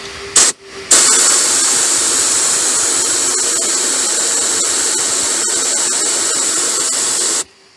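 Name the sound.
spraying protective fluid through an airline on a car seam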